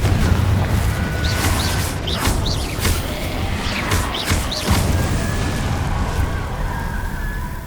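Confringo blasting spell detonating in the Hogwarts Legacy video game, a string of loud booming blasts with crackling bursts over a constant rumbling battle din.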